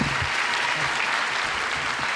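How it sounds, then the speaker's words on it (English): Audience at a university business school award ceremony gives a steady round of applause, dense and even clapping filling the room without pause. "Would you all please join me in a huge round of applause for our 2022 Alumnus of the Year, Jake Braithwaite, S.J."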